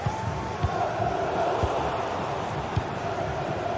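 A football video game stadium crowd roars steadily, a dense wall of cheering and chanting with rhythmic thumps and whoops, with no commentary over it.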